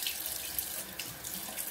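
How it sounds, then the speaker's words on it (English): Tap water runs steadily into a sink for a rinse after a shave with a razor, a soft continuous hiss and splash close by with no talking. "Okay, let's rinse off."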